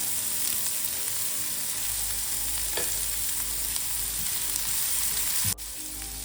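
Curry leaves and garlic crackle and sizzle in hot oil, a loud, continuous hiss over a low steady hum, with one sharp click near the end.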